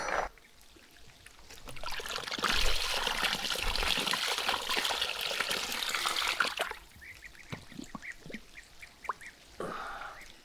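Drinking water runs from an outdoor tap in a rural setting, a steady close trickle and splash that lasts several seconds before stopping, followed by faint clatter and handling sounds.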